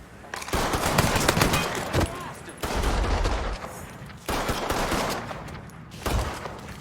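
Bursts of automatic gunfire from the Mafia III video game, with several loud, dense volleys separated by short pauses, close and dominating the soundscape.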